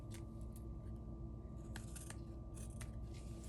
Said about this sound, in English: And I'm gonna trim off the extra here.